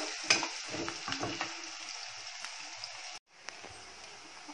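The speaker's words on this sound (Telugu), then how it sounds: "ఆనియన్స్ బాగా వేగిపోయాయి, డార్క్ బ్రౌనిష్ కలర్ కూడా వచ్చేసాయి చూడండి." Onions frying in a pan for chicken curry sizzle and crackle close by, with a few stirring scrapes early on, then a brief cut before the quieter sizzling resumes.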